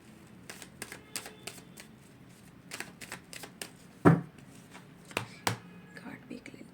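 Cards shuffled for a tarot-style reading, with a run of quick riffling flutters and soft taps, one sharper slap as a card is drawn, close by under a quiet voice.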